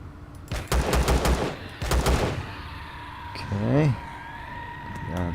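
Bursts of automatic gunfire from the Empyrion game while clearing out a mine, two loud sustained volleys near the start followed by a brief warbling electronic tone, with a steady low hum underneath.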